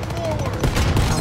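Rapid gunfire in the game Call of Duty WWII, a dense burst of close shots packed into a brief moment and mixed with game noise, with no talk.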